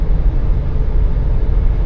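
Steady road rumble inside a 2026 Honda Passport Trailsport cruising on an older paved road on its factory hybrid off-road tires. The broad low roar holds constant throughout, with no talking.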